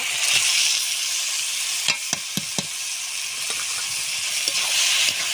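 Boiled taro hissing and sizzling as it is fried in a pan after turmeric and salt, with a steady bright sizzle broken by several sharp scrapes and knocks of a spatula stirring it close by.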